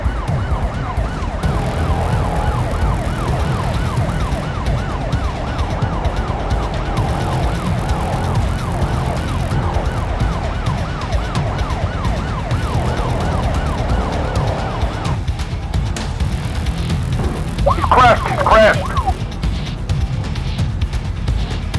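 A wailing ambulance siren in the video game BeamNG.Drive cycles steadily over a constant engine and road rumble, with a brief louder warble near the end.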